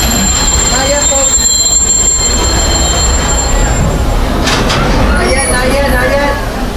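A Walt Disney World Railroad train rolls loudly into a station and slows to a stop, with a steady heavy rumble and a thin wheel squeal running throughout, while a voice speaks over the noise.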